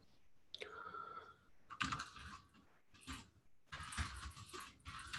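Keys clatter on a computer keyboard in uneven bursts of quick taps with short pauses between them, close and moderately loud, with no talking.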